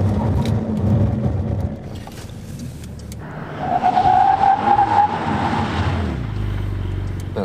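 A Porsche 992 brakes hard on the road: engine and tyre roar at speed, then tyres squeal briefly as the car sheds speed, the noise dropping away at the end.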